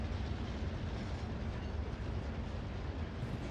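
Train rolling along in the Warzone video game, a steady, dense rumble of wheels and engine that stays level throughout, with no talk over it.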